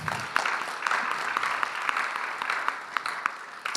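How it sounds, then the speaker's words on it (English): An audience at a governance plenary session gives steady, dense applause for the organizers, a continuous crackle of many hands with a few sharper claps standing out, at moderate distance. "can we clap for the organizers?"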